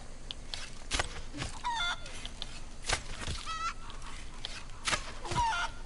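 Chickens cluck and squawk in Red Dead Redemption 2, several short bursts scattered over steady ambient game noise, moderately close with no talk.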